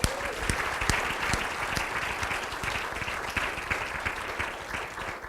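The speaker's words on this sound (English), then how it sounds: "I think we should give them a round of applause." A medical conference audience applauds a panel of consumers, a continuous wash of many hands clapping at moderate loudness for several seconds, with a few sharper individual claps standing out near the front.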